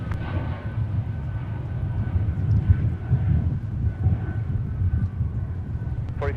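A Delta airliner departs at Minneapolis–St. Paul airport on a windy day, its steady broadband jet roar rumbling low and continuous at moderate distance with no talk.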